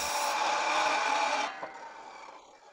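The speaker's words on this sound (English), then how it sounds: "Using my Craig Rip Guide on this Ryobi cordless saw." A Ryobi cordless circular saw ripping Baltic birch plywood with a rip guide: a loud, close whining cut for about a second and a half, then the blade spins down and fades.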